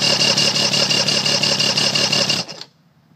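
A Mariner 150 EFI outboard engine on a 1996 Champion boat runs steadily at close range with a dense, even drone, then cuts off abruptly near the end, leaving near silence.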